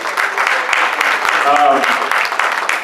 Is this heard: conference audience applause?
yes